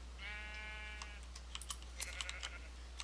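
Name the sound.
sheep bleating in the video game Minecraft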